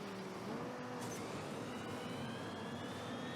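A big rig truck engine in a racing video game roars steadily at top speed, a dense continuous drone with a slowly rising whine, loud and close throughout.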